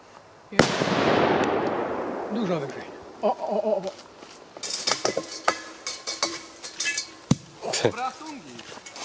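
An Achtung 5G firecracker goes off with a single sharp, loud bang followed by a long decaying rumble, then scattered clatter and nearby voices talking.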